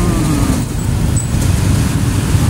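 Steady low road traffic rumble from cars, buses and trucks in a slow jam at Simpang Barelang near Batu Aji and Sagulung in Batam, continuous and fairly loud with no talk.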